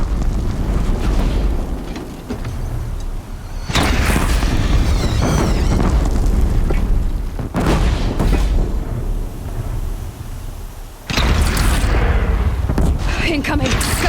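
Booming cannon blasts and explosions from the video game Horizon Zero Dawn, a dense, loud run of heavy impacts with bursts at the start, around four seconds and again near eleven seconds, under continuous game noise and shouting voices.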